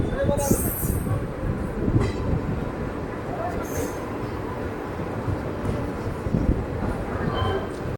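Onboard the Sai Nagar Shirdi Express running between Dornakal and Kazipet junctions, a loud, steady low rumble of wheels and carriage fills the whole stretch, with faint rhythmic clatter and a crowd murmuring underneath.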